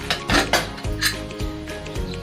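A cooled pressure cooker of yellow dal is opened, with several loud metallic clanks and clatters of the lid and vessel close by, and no speech.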